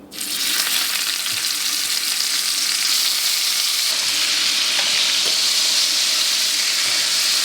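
Venison burgers sear in a hot pan. A loud frying sizzle swells in at the start and holds steady and close for the rest, with a few faint shifts and taps and no voices.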